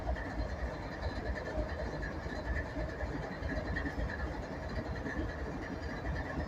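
Northbound coal train led by an ES44AH locomotive tying down at Abbeville, South Carolina, a steady low rumble of engine and rolling cars heard close and continuous, with no talk.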